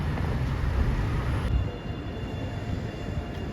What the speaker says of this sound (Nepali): मेट्रो चाहिँ यो छ हाम्रो आएको छ मेट्रोमा हामी